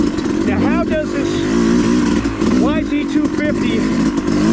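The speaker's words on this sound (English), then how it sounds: "YZ250 motocross engine just purr through this section with a moderately skilled pilot at the helm?" A Yamaha YZ250 two-stroke motocross bike works along a wet, rocky off-road trail, its engine burbling and surging loudly and close, with uneven throttle bursts.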